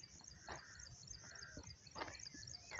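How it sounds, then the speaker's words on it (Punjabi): Crows caw at dawn in a rural riverside area, several harsh rasping calls spaced through the moment, fairly distant and faint over quiet outdoor background. "ਕਾਲਾ ਕਾਂ ਹੈ, ਉਹ ਬੱਗਾ ਕਾਂ ਹੈ।"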